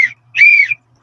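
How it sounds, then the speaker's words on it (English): A tour guide blows a whistle twice at an outdoor tourist spot, a short chirp followed by a longer, steady shrill blast, loud and close, with no talk over it. "if you hear us whistle blowing twice like this"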